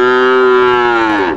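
A single cow at a village cattle market in Nawapara, Jessore, lets out one loud, close, sustained moo lasting just over a second, rich and tonal, with no talk over it.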